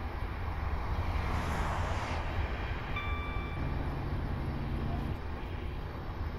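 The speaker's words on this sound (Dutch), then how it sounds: "Komt een klas 158 aangereden van ScotRail." A ScotRail Class 158 diesel train draws near, its engine a steady low rumble with a brief tonal whine rising over the drone, continuous and fairly quiet throughout.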